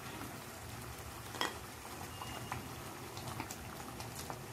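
Tiger prawns going into a simmering masala, giving a steady low bubbling and sizzle with a brief louder splash near the start, close and alone.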